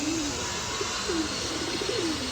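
Pigeons cooing nearby, several soft low repeated coos over a steady background hiss, with no talk.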